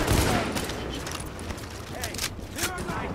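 Bursts of gunfire ring out in The Division shooter game, rapid shots over a busy background, mixed with voices talking.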